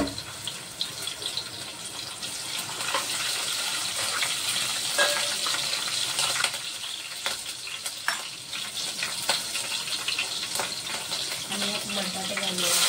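Curry leaves, cumin and green chillies frying in oil for sabudana khichdi, a steady bright sizzle and crackle with occasional stirring clicks, close and fairly loud.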